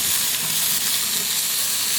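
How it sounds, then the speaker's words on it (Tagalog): Onion and tomato sautéing in a pan, giving a steady, close, loud sizzle and frying hiss throughout, with no talk. "continuously gisa po natin tong sibuyas at kamatis"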